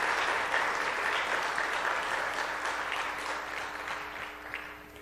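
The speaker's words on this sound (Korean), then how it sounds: "우리 식구님들을 위해서 큰 박수 한번 보내주시면 고맙겠습니다." A church congregation claps together in steady, dense applause during a Sunday service, holding strong before gradually tapering off toward the end.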